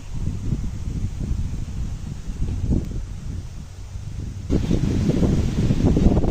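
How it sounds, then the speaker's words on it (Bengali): Strong wind roars into the microphone with banana leaves rustling and thrashing, gusting harder toward the end. "এই যে দেখেন কত জোরে কলার গাছ নড়তেছে, অনেক বাতাস হচ্ছে"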